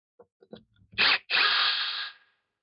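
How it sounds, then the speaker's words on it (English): A few light clicks and handling taps, then two bursts of a power drill whirring as it removes guitar neck bolts, a short one followed by a longer spin that winds down. "as I was using the drill to remove these screws"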